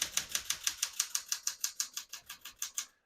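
A 1969-1972 Smith-Corona Galaxie Deluxe portable typewriter is typed on in a quick, even run of about seventeen crisp keystrokes. The strikes are close and distinct, then stop abruptly at the end.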